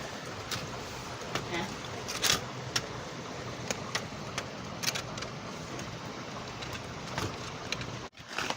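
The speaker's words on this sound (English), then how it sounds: "can you hear the rain?" Rain falls outside at night as a steady, moderate hiss, with scattered soft taps and drips on top and no voices.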